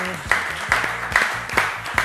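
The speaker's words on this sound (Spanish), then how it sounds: "yo te estoy aplaudiendo" Sparse clapping in a Spanish-language late-night TV studio: a few distinct, evenly spaced claps roughly every half second, close and sharp, over a faint background.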